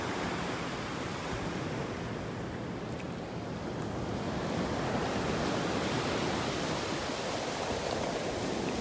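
Steady ocean surf washing onto a Gulf beach in North Naples, Florida, a continuous broadband roar of breaking waves with some wind buffeting the microphone, no voices.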